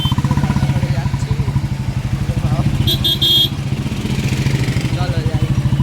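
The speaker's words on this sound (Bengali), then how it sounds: "তাই দেখো আমরা যাচ্ছি বাইকে করে" A motorcycle engine putters close by with a steady rapid pulsing as the bike rides along, a brief higher chirp partway through, and people talking over it.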